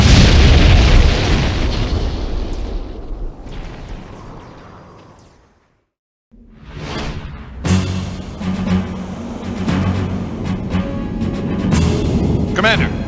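An airship in the Septerra Core video game takes an explosive hit and goes down: a loud rumbling blast decays to a brief silence, then a dense roaring crash-landing din rises and continues, with speech present.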